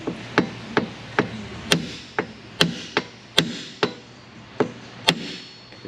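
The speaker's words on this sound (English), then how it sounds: "I'm gonna tap that stud with a little hammer right here" Small hammer tapping the wiper arm stud on a Lexus RX400: roughly a dozen sharp, close metallic taps at an even, steady pace, with no talking.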